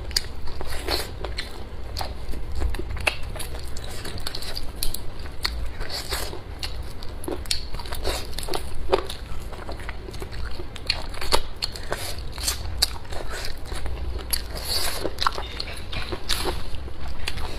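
Close-up crunching and biting into air-fried Orleans-style and spicy chicken legs, each about 220 grams, with frequent crisp bites and chewing throughout and no one speaking.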